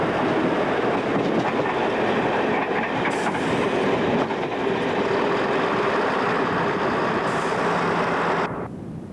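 A train runs along the former Great Western Main Line route toward Bletchley on the Oxford to Cambridge railway, a loud, steady rolling roar with clickety-clack from the wheels that holds throughout and drops away at the end.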